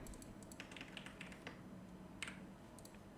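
Typing on a computer keyboard while entering a name into a Canva design: scattered soft key taps and a few sharper clicks, fairly quiet over faint background hiss, with no talking.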